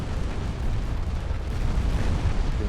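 Torpedo hits exploding against a warship in Ultimate Admiral: Dreadnoughts, a dense, continuous low rumble of blasts and churning water, loud and sustained with no talk over it.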